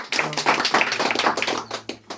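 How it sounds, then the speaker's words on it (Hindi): An audience applauds a speaker at a meeting: dense, loud clapping from many hands, steady for about two seconds before tapering off, with no talk. "जोरदार ताली सर के लिए"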